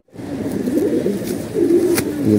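Paired pigeons coo close by in low, throaty, warbling phrases that repeat several times, with nothing else around them.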